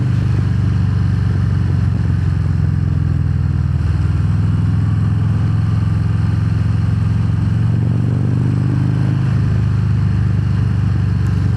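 A Harley-Davidson Fat Bob 114 motorcycle engine drones steadily while riding, a deep, loud low rumble holding through the whole stretch with slight shifts in pitch, no voices over it.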